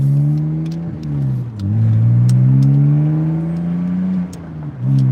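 A tuned BMW 330xi, converted from a 325xi with a three-stage intake manifold, revs on a test run; the engine note climbs and falls in several loud, close sweeps with no talk over it.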